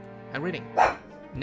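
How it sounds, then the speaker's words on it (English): Pet dogs bark indoors in a couple of sharp bursts mixed in with a person talking nearby, the yaps blending into the voice. "I'm sorry about my dogs. They just tend to make a lot of barking."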